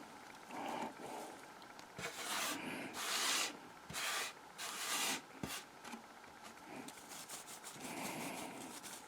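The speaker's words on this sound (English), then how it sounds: "So as I rub over the screen" Dry carrot seed heads rubbed by hand over a fine metal mesh kitchen strainer, giving repeated scratchy, rasping strokes in uneven bursts, close and fairly quiet, with no voices.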